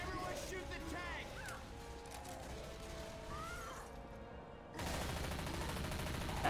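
Gunfire in Left 4 Dead 2 as survivors shoot at a Tank, dense rattling shots mixed with mechanical clatter, fairly faint, with a louder burst near the end.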